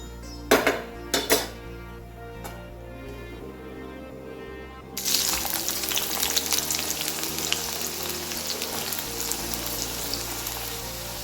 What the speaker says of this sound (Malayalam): ഇതുപോലെ തന്നെ വറുത്തെടുക്കണം